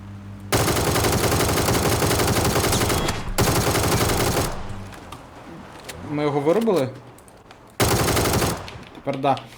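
Long bursts of rapid automatic gunfire in PUBG, loud and continuous, broken by brief pauses, with a voice talking in between.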